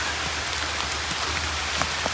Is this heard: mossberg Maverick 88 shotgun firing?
no